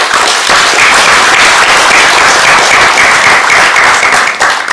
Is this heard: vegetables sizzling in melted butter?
no